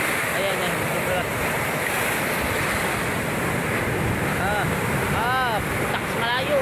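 Big sea waves stirred up by the amihan wind, a continuous loud rush of surf with strong wind buffeting the microphone close by and voices faintly calling over the roar.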